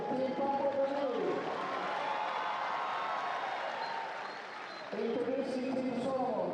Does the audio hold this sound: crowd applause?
yes